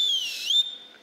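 A short, shrill whistle, a camping whistle, sounds up close, its pitch dipping and rising briefly before it stops, followed by quiet.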